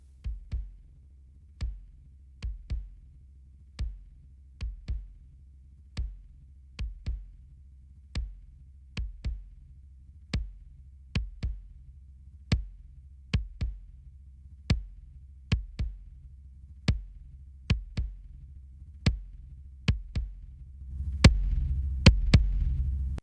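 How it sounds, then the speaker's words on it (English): A heavily overcompressed drum part with its compressor attack being raised, a steady run of sharp, punchy hits repeating at an even pulse over a dense low-end bed, swelling louder and denser in the final seconds. "we can really hear the smack of that coming through."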